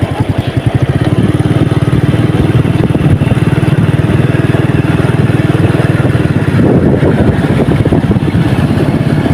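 A motorized bangka outrigger boat at Lipata, Culasi, Antique, chugs loudly at close range, its engine beating in a fast, steady low rhythm that continues without a break.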